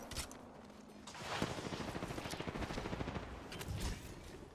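Rapid bursts of gunfire in the video game Apex Legends during a ranked match, fairly faint, dense, repeated shots with a clattering rhythm.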